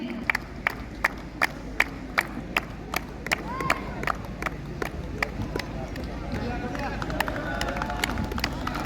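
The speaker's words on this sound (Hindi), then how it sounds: "जोरदार तालियों के साथ स्वागत कीजिए मिस्टर गांगा आता फ्रॉम जुम्मू कॉम्बैट" Regular claps ring out through crowd noise and nearby talk at the closing ceremony of a district-level football tournament, with sharp repeated hand claps over a continuous murmur of the gathered spectators.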